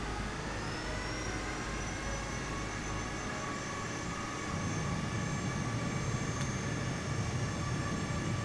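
Airliner engines spool into reverse thrust after touchdown in Microsoft Flight Simulator 2024, a steady broad roar with a high whine that swells louder about halfway through.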